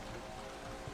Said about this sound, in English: It's raining inside the facility